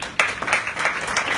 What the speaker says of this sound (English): a round of applause for this guy